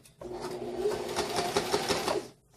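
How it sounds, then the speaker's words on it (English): A sewing machine forward stitches a lanyard in one continuous run of rapid, even mechanical whirring and clatter, close and clear, starting and stopping within a couple of seconds. "Then you're going to forward stitch."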